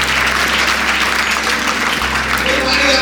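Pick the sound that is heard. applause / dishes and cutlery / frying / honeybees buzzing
applause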